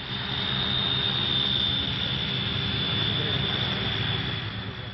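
Jet aircraft at a snowbound northern airport, heard as a steady, fairly distant engine whine and roar that holds for the whole stretch without interruption.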